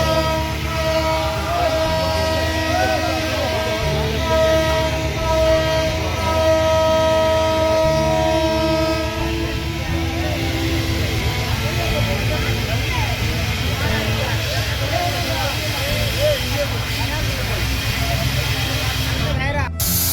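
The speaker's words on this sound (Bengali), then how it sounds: "এক্সপ্রেসের হাওয়ার পাইপ খুলে গেছে। আপনারা দেখতে পাচ্ছেন পুরোপুরি হাওয়া বেরিয়ে যাচ্ছে।" Compressed air rushes out of a detached brake air pipe on the Kurigram Express, a loud, continuous hiss that lasts the whole stretch, with a crowd talking over it and a tonal whine early on.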